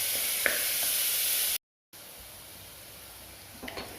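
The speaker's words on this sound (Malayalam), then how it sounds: "ഇത് വേഗം വഴലാനായിട്ട് നമുക്ക് കുറച്ച് ഉപ്പിട്ട് കൊടുക്കാം. ഇനി ഇതൊന്നും നല്ലപോലെ ഒന്ന് വഴറ്റിയെടുക്കട്ടെ." Sliced onions with salt sizzle steadily in a hot pan for a chicken curry, a continuous bright frying hiss broken by a brief gap, with faint stirring clicks.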